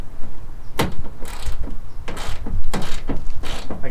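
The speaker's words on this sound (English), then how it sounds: "Now I'm just gonna go over it with the ratchet quick." A ratchet snugs the wheel well liner screws on a 2020 Ram 1500 Big Horn, giving loud, close, rapid clicking bursts in an uneven, repeated rhythm with short pauses between strokes.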